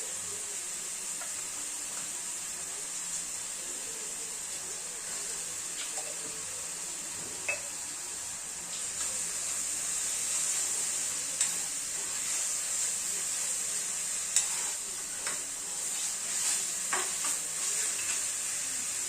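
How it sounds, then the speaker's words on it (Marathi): Onion softened in a pan with ginger, chili and garlic paste for a spicy Marathi brinjal bharit, a steady hiss of frying under occasional scrapes and clinks of a spoon stirring, louder and busier in the second half. "कांदा थोडा मऊ झाला की त्यामध्ये मी घालते अद्रक, मिरची आणि लसूणची पेस्ट"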